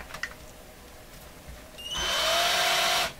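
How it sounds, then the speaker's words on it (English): A power drill works on a part for a Viking Console RC311 model, spinning up in a single loud whirring burst of about a second after quiet shuffling, then cutting off abruptly. "I find just using my drill here is pretty good"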